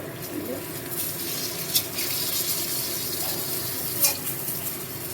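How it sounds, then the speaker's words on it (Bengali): Fish fries in a pan on a home stove with a steady, moderate sizzle and a couple of sharp spits, while a voice talks softly nearby. "এই যে লাইলনটিটা মাছ ছিল, এই মাছ ভাজছি।"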